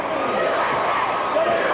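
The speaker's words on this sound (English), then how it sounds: "Listen to the tremendous crowd hollering USA, USA." A 1985 WWF wrestling arena crowd roars in a dense, sustained wash of hollering and chanting, loud and continuous with no clear break.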